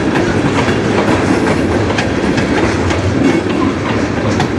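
A train passes close by on the Strathroy Sub, a loud, continuous rumble of rail cars with rhythmic clickety-clack from the wheels and no voices.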